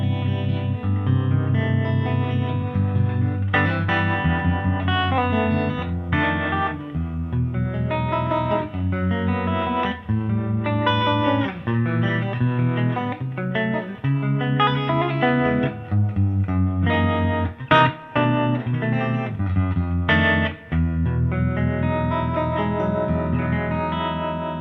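Electric guitar played through a tweed-style Orange amp with spring-like reverb and harmonic vibrato, shimmering sustained chords and single notes ringing out with a wavering, echoing tail and no talking.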